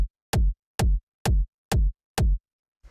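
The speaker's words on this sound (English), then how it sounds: "then after that we have the kick, which sounds like this" Five deep electronic kick drum hits land in a steady, evenly spaced rhythm, each booming and decaying quickly, followed by a faint noisy tail at the end; no voices.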